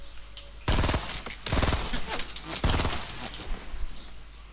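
Gunfire rings out in the video game Fortnite during a solos match, three loud bursts of rapid automatic shots separated by short gaps, up close and with no talking.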